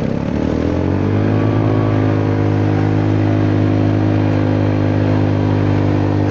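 A Honda Forza 300 scooter accelerating on a road at night, its engine drone loud and close with a steady rising tone that holds for several seconds, no voices over it.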